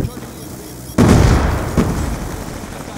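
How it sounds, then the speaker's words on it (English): Lightning strike killstreak explosions in Call of Duty on the Nuketown map, two booming blasts about a second apart, the first louder, each trailing into a rumbling decay. "Hostile lightning strike inbound."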